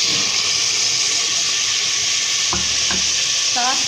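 Chickpeas stir-fried in a hot pot for chana pulao give a loud, continuous sizzle, with a few sharp scrapes of a spoon near the end.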